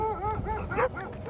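A pack of about ten dogs gathered in one spot along a roadside walk gives short, close yips and whining barks in a quick, uneven burst.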